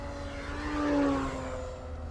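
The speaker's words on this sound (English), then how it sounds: "Actually sounds really cool with the electric power system." A Hangar 9 P-47D Thunderbolt model plane on electric power whines past, its high motor tone swelling and bending in pitch as it passes at moderate distance.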